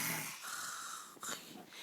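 A small child imitates a father's snoring with a raspy, wheezy snort, quiet and close, in a short breathy burst with no talk over it.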